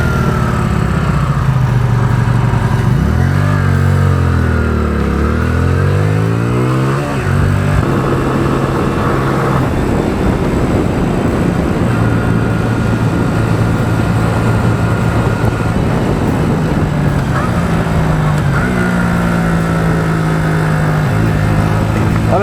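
Motorcycle riding through traffic, with a loud, continuous engine drone that rises and falls as it revs and shifts, wind and road noise filling the background, no speech.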